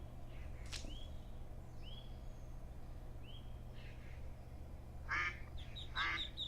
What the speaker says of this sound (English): It's a duck pond, alright.